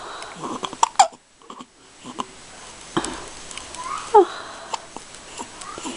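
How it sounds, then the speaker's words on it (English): A baby with hiccups gives a couple of small, sharp hiccups among soft sniffs and breaths, close by and with no talking. "No one likes having hiccups."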